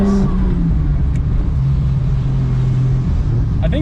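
A Toyota JZX100's engine while driving, a steady low rumble holding a constant tone throughout, close and fairly loud, with a brief lighter rise near the end.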